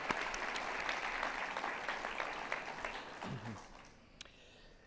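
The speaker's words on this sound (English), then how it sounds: "a big applause for all of you for your great work" Audience applause for students after their presentations at a space science education event, a steady wash of clapping from a crowd that holds for about four seconds, then tapers off with a few last claps.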